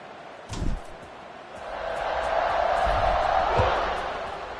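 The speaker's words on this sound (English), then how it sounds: "this crowd is buzzing after that last score" A college football stadium crowd at a Colorado game roars after a score, a dense buzzing swell that builds and holds with a few thuds near the start, while a commentator talks over it.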